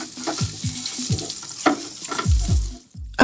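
Oil poured into a hot pan where onion and tomato are frying, giving a steady close sizzle with a run of deep, repeating swells across the short stretch and a brief quieter dip near the end.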